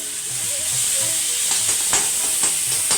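Chopped onion with a pinch of fenugreek seeds fries in the oil left from frying rui fish, giving a steady bright sizzle with a few light stirring scrapes, close up and alone.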